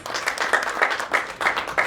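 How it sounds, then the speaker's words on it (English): A round of applause for a doctor at a panel discussion, many hands clapping in a dense, steady patter with pulsing swells, close and fairly loud throughout. "Let's give the doctor a good round of applause"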